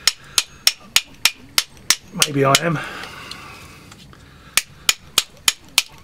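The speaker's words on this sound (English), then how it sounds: "It's going to take a good hammering, this is." Sharp, evenly spaced metal hammer blows strike a seized motor part during motor scrapping, a rapid regular series of loud close impacts that pauses while someone speaks briefly, then resumes at the same steady rhythm.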